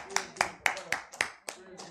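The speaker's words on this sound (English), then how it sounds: "Everybody clap your hands" Several people clap in a steady rhythm, about six loud claps over two seconds, with voices mixed in.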